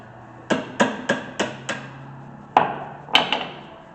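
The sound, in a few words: hammer knocking brake part loose on Lexus NX200t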